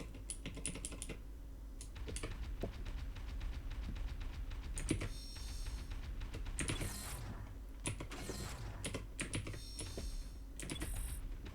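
Computer keyboard keys are pressed in quick, irregular bursts of clicks and taps, close and fairly quiet, with short pauses between flurries.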